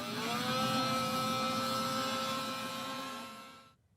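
A two-stroke snow machine engine runs in an Alaskan winter setting, a steady buzzing drone held for several seconds at moderate distance before cutting off abruptly near the end, with no talking.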